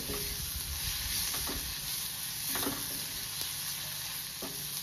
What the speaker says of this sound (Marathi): आता हे मसाले चांगले असं तेलामध्ये असे चांगले भाजून घेते।